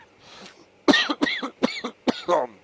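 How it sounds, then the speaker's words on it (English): A short burst of several harsh coughs in quick succession, close and fairly loud, after a faint breathy sound at the start. "I do have a cough"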